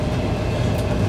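An evacuation train from Sloviansk to Uzhhorod rolls along the rails, giving a steady, close, continuous low rumble inside the carriage with no talk.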